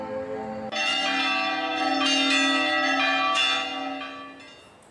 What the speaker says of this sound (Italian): sono risuonate le campane con rintocchi sempre a partire dalle 22